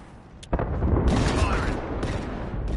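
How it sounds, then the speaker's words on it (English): Knuckle cluster explosions in Apex Legends: a dense, continuous burst of rapid crackling blasts and booms that starts suddenly and keeps rumbling loudly for a couple of seconds. "Launching me knuckle cluster"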